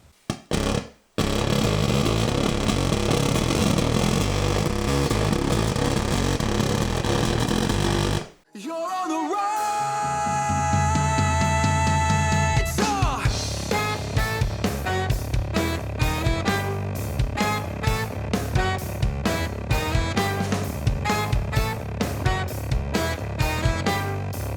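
Electric guitar riff run through a compressor and Zeus pedal with gated fuzz and an analog octaver: a dense, loud fuzzed passage, a brief cut, then a sustained octave-doubled note before a choppy, rhythmically gated stretch, all without talk.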